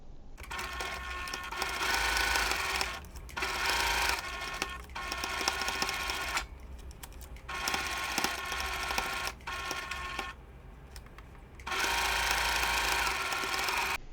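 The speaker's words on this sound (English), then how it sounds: "now I'm sewing them together" Sewing machine stitching pinned Christmas quilt block pieces together, fast steady whirring bursts of stitching broken by short pauses, close and clear, with no talk.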